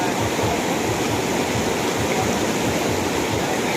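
A strong river spring gushes in a loud, unbroken roar of rushing water, steady and close with no pauses.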